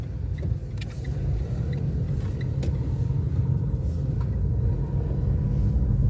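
Car driving along a very narrow village road near Gödence, Seferihisar: a steady low engine rumble and tyre roar from inside the vehicle throughout, with faint small knocks and no clear talk.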